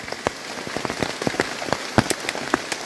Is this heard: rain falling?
yes